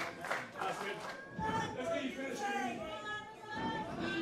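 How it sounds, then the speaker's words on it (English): A noisy wrestling crowd chatters and cheers in a large space, with a commentator's voice talking over the swelling murmur. "Listen to that crowd."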